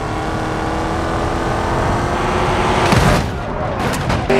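Simulated car crash test in BeamNG.drive: a steady engine drone and road rumble build, then a heavy impact boom hits about three seconds in, followed by scattered crunching.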